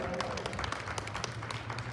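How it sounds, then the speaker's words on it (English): An audience at a horsemanship clinic applauds, a dense, even patter of many hands clapping at moderate distance, with speech faintly under it. "give a round of applause"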